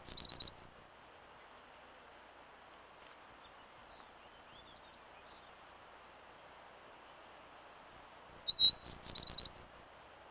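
Two bursts of clear, musical sparrow song, one at the start and one near the end, separated by quiet with faint background hiss.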